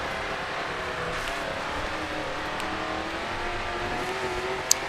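A race car drones steadily in the racing game GRID 2 as it crosses the finish line, a continuous engine hum at even level with a brief sharp tick near the end.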